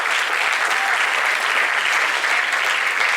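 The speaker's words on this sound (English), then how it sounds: "Can we have a big round of applause for Mr. Wilbur Sargunaraj" Dense, steady applause from a school audience at the American International School of Chennai fills the whole stretch, loud and continuous with no gaps.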